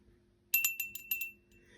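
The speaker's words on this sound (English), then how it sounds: "So this is the quiet bell." A small classroom quiet bell rung gently several times in quick succession, light bright dings close by in an otherwise quiet room.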